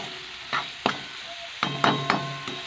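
Capsicum sautéing in a pan: a steady low sizzle broken by about six sharp, close spatula scrapes and knocks at an uneven pace, with no voices.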